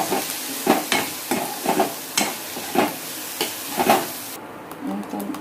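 Ginger, chilli and garlic paste cooking in a pan for bhindi masala, a soft sizzle under rhythmic spoon strokes that scrape about every half second, close and moderately loud.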